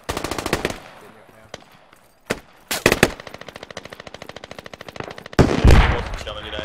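Bursts of automatic gunfire from the military shooter game Squad, a rapid rattling machine-gun volley up front, then scattered single shots, another close rapid burst, and a loud heavy blast near the end.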